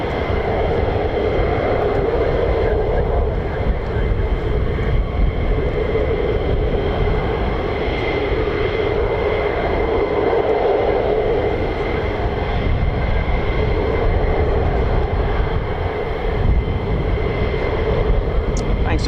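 US Air Force F-35A fighter jets fly near RAF Lakenheath, a steady, distant broadband jet rumble lasting throughout, with someone talking over it.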